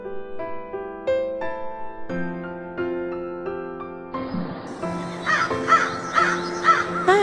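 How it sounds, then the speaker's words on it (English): Crows caw repeatedly while feeding on grain in fields of ripened wheat, the calls close and fairly loud, layered over one another and growing busier toward the end. "Birds are enjoying by eating grains."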